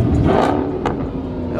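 Loud Dodge Hellcat engine revving at a street car meet, a throaty rising roar with crowd chatter and voices mixed in, close and continuous through the brief moment.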